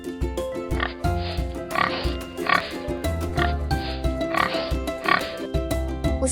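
A pig on a farm oinking and grunting in short rhythmic bursts, mixed with light background music, close and fairly loud.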